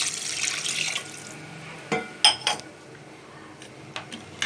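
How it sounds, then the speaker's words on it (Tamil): Water poured into rice for biryani, a steady splashing pour for about the first second, followed by a few sharp clinks of a cup or vessel; no talking. "அந்த கிளாஸில் வந்து நாங்கள் 2 கப் அரிசி எடுத்துக்கோனா 3 கப்பு தண்ணி ஊற்றிக்கலாம்"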